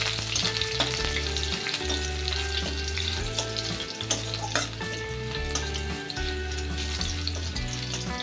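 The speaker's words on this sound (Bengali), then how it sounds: "তেলটা গরম হয়ে গেছে এখন আমি রসুনটা দিয়ে দিচ্ছি রসুনটা থেতো করা" Crushed garlic sizzles and fries steadily in hot oil while a pumpkin-stem and prawn curry is being made, a loud, close crackle with occasional stirring scrapes and no talking.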